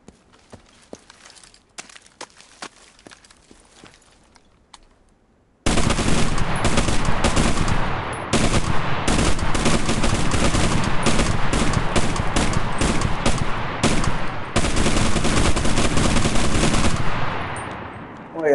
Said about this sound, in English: I heard the Maxim Tokarev was a good machine gun.